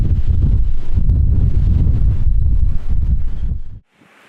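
Heavy low wind rumble buffets a microphone fitted with a wind baffle for nearly four seconds outdoors in Africa, loud and constant, then cuts abruptly to near silence.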